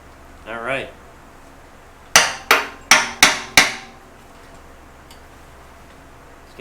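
Five sharp metallic hammer knocks ring out in a quick, steady series, knocking parts off a 1940 car rear end, following a brief squeaky sound, with quiet room noise between.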